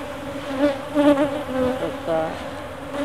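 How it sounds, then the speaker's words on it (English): Bees buzzing close by at a honey farm, a droning hum that rises and wavers as insects move near, with no voices. "See these big guys with the kind of barrel-shaped bodies and the really big eyes? That's a male bee."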